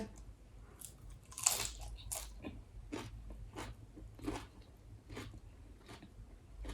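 Someone eating raw cabbage, sweet and crisp, with a series of close, crisp bites and crunches spaced about every half second, the loudest near the start, in a quiet room with no speech.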